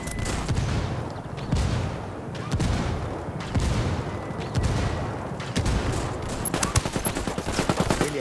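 Rapid bursts of gunfire in Ghost Recon Wildlands PvP crackle continuously, shots overlapping in dense volleys with a sharper flurry of quick cracks near the end.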